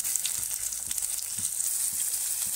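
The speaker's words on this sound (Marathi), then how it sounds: "कांदा चांगला लालसर झाल्याच्या नंतर यात आपण एक चिरलेला टोमॅटो घालून घेऊ।" Chopped onion and tomato frying in a pan for a mutton ghee roast, a steady soft sizzle with faint crackles running throughout, close and moderately quiet, with no talking.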